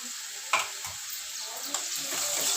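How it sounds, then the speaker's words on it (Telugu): Onions frying in a pan, a continuous close hiss of sizzling oil punctuated by a couple of brief spatula clinks and stirring scrapes, no one speaking. "ఇక్కడైతే ఉల్లిపాయలు ఫ్రై అవుతున్నాయి అన్నమాట"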